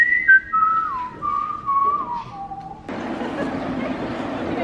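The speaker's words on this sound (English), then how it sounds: "You can all whistle along." A whistled melody, clear and fairly close, carries for a few seconds before a burst of broadband noise takes over.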